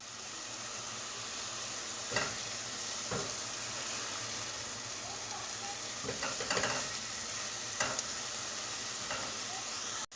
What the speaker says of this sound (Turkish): İçine soğanlarımızı koyalım ve kavrulmaları için ekleyelim.